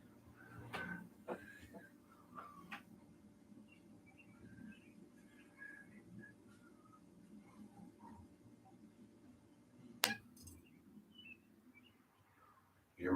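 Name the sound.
birds singing outside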